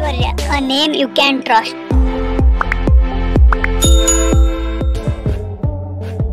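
A notification bell sound effect rings as a run of loud, evenly spaced chime strikes, set over bright tonal music-like tones.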